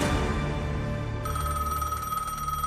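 A telephone starts ringing partway through with a bright, steady electronic tone over a low background hum.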